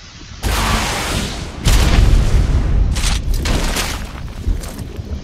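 Rockets explode in the game ARK: Survival Evolved inside a cave, with two heavy booming blasts in a row followed by a long rumbling roar and scattered crackling bursts, loud and close.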